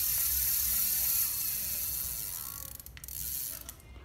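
A Daiwa fishing reel with a metal spool spins its mechanism, giving a steady high-pitched ratcheting whir for over a second before slowing into uneven clicks and rattles, close up with no talking.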